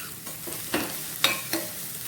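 Half-cooked onions frying in an AMC cookware pan, stirred with a few distinct spoon scrapes and clacks over a quiet, low sizzle.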